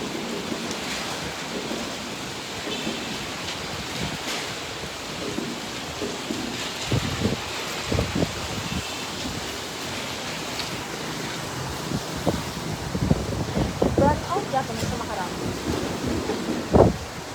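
Strong typhoon wind and heavy rain lash the area, a continuous roaring wash of storm noise with intermittent knocks and bangs as roofs rattle, some louder near the end.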